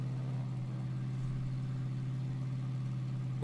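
The engine of a training aircraft runs steadily on the ground with an even, low droning hum. It holds constant throughout, with no voices over it.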